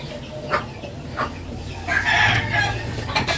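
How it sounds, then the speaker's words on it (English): A chicken clucks outdoors in short, separate calls, then gives a louder, drawn-out crowing call, heard close over a light background. "The friendly chicken visiting again."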